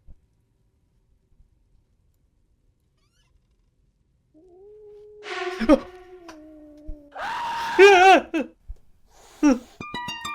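Several drawn-out cat meows from a horror video game sound up close after a long quiet stretch, rising and wavering in pitch, one sustained wail followed by shorter cries.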